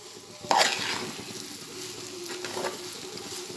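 Grated fresh coconut is stirred into hot ghee in a pan for a Konkani dish, giving a soft, continuous sizzle with a sharper scrape of the spoon near the start and light stirring noises throughout.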